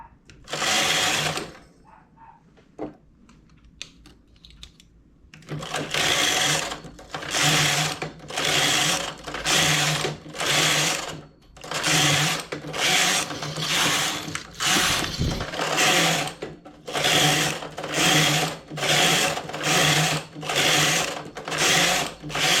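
A home knitting machine works rows of a lace-pattern stitch, with a quiet start followed by a long, regular series of loud mechanical whirring strokes as the carriage sweeps back and forth, close by.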